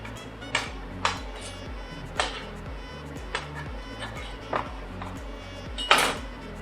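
A metal spatula scrapes and taps against a frying pan while lifting a crêpe, with several sharp clinks spaced irregularly over a steady low background hum, close and moderately loud.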